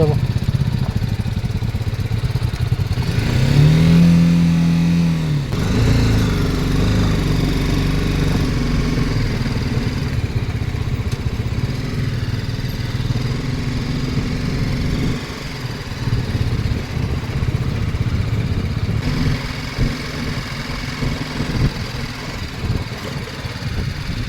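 A motorcycle engine revs up early on, then settles into a steady, throaty rumble that continues close by throughout, on a bike ride in Ladakh.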